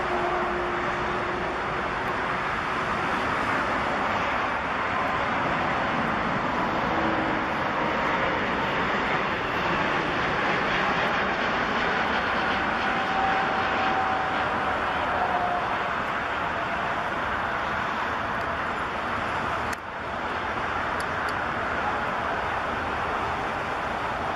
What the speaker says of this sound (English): a beautiful clip of a Airbus 340-600, which you ended your career on